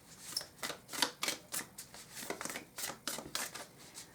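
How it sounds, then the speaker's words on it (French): Cards from an oracle deck are riffled and shuffled close by in a quick run of soft papery flicks and snaps, fairly faint and rhythmic, with no talking over them. "On va tirer maintenant une petite carte du Crazy Sexy Love Note."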